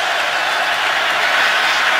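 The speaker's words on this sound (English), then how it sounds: "with the crowd making some noise here in Baltimore" Football stadium crowd in Baltimore during an NFL game between the Bengals and Ravens, a dense, steady roar of cheering voices filling the whole clip, loud and sustained without a break.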